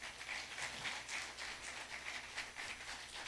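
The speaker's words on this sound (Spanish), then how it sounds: "¿Cuánto un aplauso al Señor?" Congregation applauding for the Lord during a church service, a steady wash of many hands clapping at moderate distance, fairly faint and without talk.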